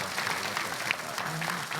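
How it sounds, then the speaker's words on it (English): Hackathon audience applauding finalists on stage, soft steady clapping somewhat distant and quiet, with faint voices mixed in. "Huge round of applause."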